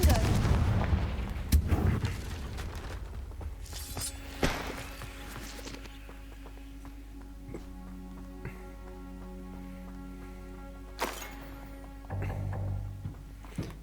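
In the Hogwarts Legacy video game, the Confringo explosion spell sets off sharp booming blasts over mechanical clanking and ratcheting sounds, followed by a sustained hum and another burst of impacts.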